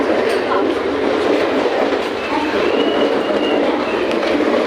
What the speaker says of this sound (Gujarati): ટ્રેન જાય છે એક ગઈ હવે આ બાજુ આવશે